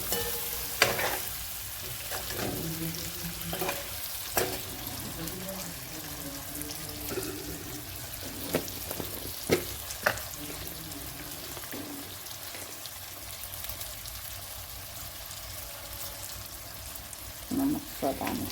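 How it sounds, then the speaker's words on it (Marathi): Masala is stir-fried in a pan for a Marathi fish curry, a quiet, steady sizzle broken by regular scraping strokes and clacks of the spoon, with a faint voice now and then beneath. "मस्तपैकी परतून घ्यायचं"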